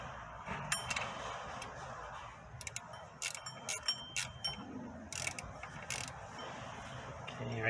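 A ratchet tightening the alternator mounting bolts on a 2003-2006 Honda Element with the K24 2.4 engine, giving bursts of quick metallic clicks at close range with short pauses between strokes.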